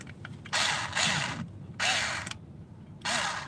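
A handheld power drill whirs in three short bursts separated by pauses, close and fairly loud, during a DIY upgrade to LED lighting.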